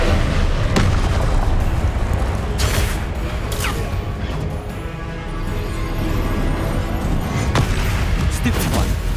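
Confringo spell blasts in the Hogwarts Legacy video game, several booming explosive bursts over a dense, continuous battle din, with sharp impacts recurring every couple of seconds throughout.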